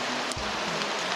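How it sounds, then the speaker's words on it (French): Heavy September rain pours down outside in a steady, dense hiss with no break, heard from indoors with a dull bump partway through. "là il est en train de pleuvoir des cordes, mais un truc de fou"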